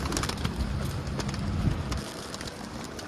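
A pigeon coos in a backyard coop, low steady calls over a continuous rustle of birds moving around, fairly close; the cooing thins out and the background quietens near the end.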